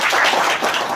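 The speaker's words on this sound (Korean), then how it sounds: "예, 박수로 환영해 주십시오." An audience at a 2015 head-family culture lecture at Kyungpook National University applauds to welcome the newly appointed chairman, producing a loud, dense wash of clapping that fills the whole moment without voices.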